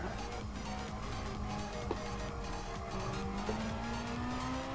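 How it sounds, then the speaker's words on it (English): Race car slowing under braking in the Gran Turismo Sport Clubman Cup, a steady engine drone whose tone slides as the car decelerates, with faint tire noise and a couple of brief clicks throughout. "I'm hitting the brakes."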